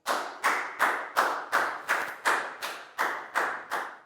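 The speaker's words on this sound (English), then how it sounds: "Big round of applause for Net," Classroom claps for a student, about ten slow, evenly spaced hand claps, close and distinct with short decays between them.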